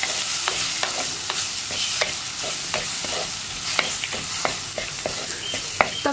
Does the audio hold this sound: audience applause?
no